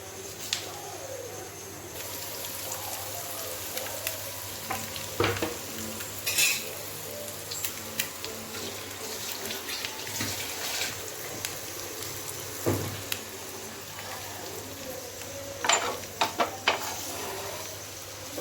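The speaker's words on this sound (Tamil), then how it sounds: "அப்படியே உடையாம கொடுத்து கிண்டி விடணும்." Egg masala frying in a pan is stirred with a utensil: a soft sizzle runs underneath while scraping strokes and sharp clinks against the pan come and go at close range.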